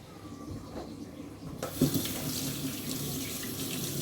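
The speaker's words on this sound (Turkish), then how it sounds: "Ellerimi yıkayayım." Hands are washed under a running kitchen tap after kneading dough for homemade lahmacun, a steady splashing stream of water that grows louder partway through, with no talk.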